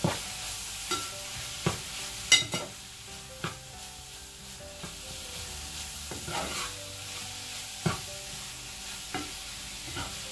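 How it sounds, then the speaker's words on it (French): Meat and spices stirred and frying in a pan over medium heat for moussaka, with a steady soft sizzle broken by regular scraping clacks of the utensil, close up and with no talk. "je mélange le tout et je laisse cuire à feu moyen pendant quelques minutes"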